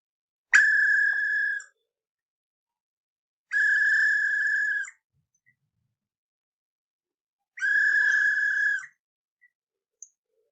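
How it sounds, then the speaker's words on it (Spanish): Three long, loud blasts of a shrill whistle, each lasting about a second, separated by silence. "Toca un silbato."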